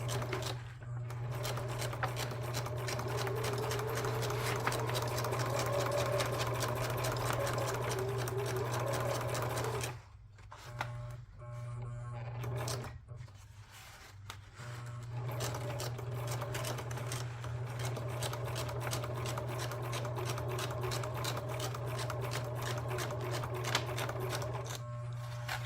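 A sewing machine stitches edge trims and binding onto a junk journal with a sewing-pattern cover. The close, continuous whir runs throughout, with a brief pause around the middle before stitching resumes.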